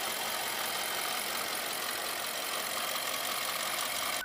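A 2015 BMW 6 Series engine idles with a steady, close, hissy whir that holds constant with no talking.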